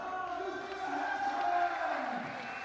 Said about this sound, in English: Big noise from the crowd here in Lima.